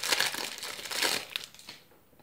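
Crinkly plastic wrapper of a Panini Road to Russia 2018 football sticker-card packet torn open up close, a couple of dense bursts of crumpling and tearing that fade out near the end.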